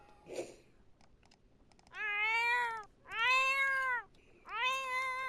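A cat in The Sims 4 gives three long, loud, drawn-out meows one after another, close and clear, after a short bump and some quiet background noise.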